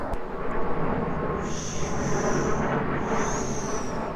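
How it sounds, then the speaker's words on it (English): An airplane passing overhead at night outdoors, a soft broad engine rumble that swells and fades over a few seconds, with faint high whines above it and no talking. "Oh, the airplane's coming."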